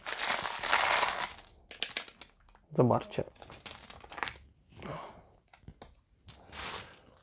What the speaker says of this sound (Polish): Tu mamy na przykład srebrną monetę, moje ulubione radzieckie monety